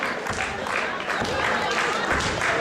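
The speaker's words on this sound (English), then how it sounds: "Crowd is active though. Crowd is alive." Wrestling crowd at an Absolute Intense Wrestling match between Cedric Alexander and Colin Delaney, a steady wash of cheering and clapping that stays loud and continuous throughout, with a commentator's voice over it.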